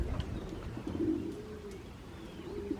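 Soft, low pigeon coos repeat over a faint outdoor hum, fairly close, with a few light chirps mixed in.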